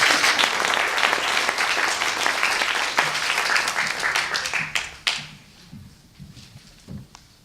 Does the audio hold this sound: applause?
yes